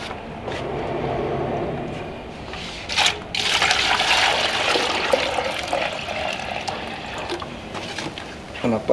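Water pours into a bucket of wall sealer mix, a rushing, splashing stream that runs steadily for several seconds at close range, with brief knocks around it.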